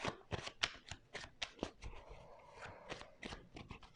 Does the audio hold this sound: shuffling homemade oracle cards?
yes